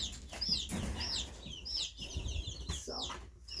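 Egg-laying chickens cluck and squawk in a coop, a dense flock of short overlapping calls with occasional louder alarmed squawks, close and busy throughout.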